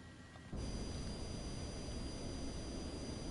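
Jet engine spooling up in Microsoft Flight Simulator 2024, a steady broadband roar that surges in abruptly and then holds loud and constant, with a faint high whine running throughout.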